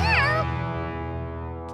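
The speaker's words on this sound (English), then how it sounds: "a cat!" A single high, wavering cartoon cat meow rings out near and clear at the start of a Curious George episode, then fades into a sustained tonal background.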